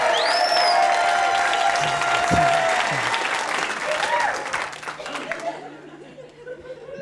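Audience applause from a live crowd watching a magic show, steady clapping filling the space with scattered chatter and a few chuckles, thinning and fading toward the end.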